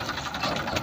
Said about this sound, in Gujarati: ટ્રેક્ટર આવી ગયું છે